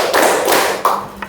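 Students in a civics class clap together on a counted cue, a few short group claps in quick succession, near and fairly loud with room noise between.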